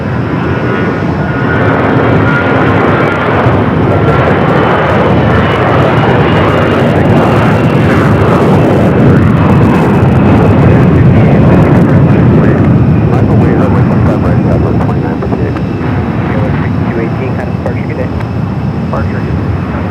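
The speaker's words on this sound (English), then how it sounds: "Flight taking off, heading to Charlotte, flight 1678" An Airbus A321 takes off from Phoenix Sky Harbor bound for Charlotte, a loud, close, sustained engine roar that swells through the middle and eases slightly toward the end, with voices briefly under it.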